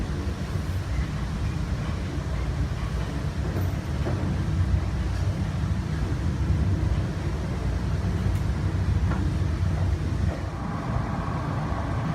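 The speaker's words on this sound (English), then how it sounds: "As you can see, we're taking the train." Steady interior rumble of a moving train between Lucca and Pisa in Italy, a continuous low, even drone with faint rattles and no clear talk.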